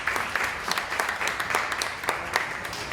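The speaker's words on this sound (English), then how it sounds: "A big applause for everybody." Audience applause at the opening session of the BIOHUNT 2022 event. Steady, moderately loud clapping from a modest crowd, with a few sharper individual claps standing out, and no speech.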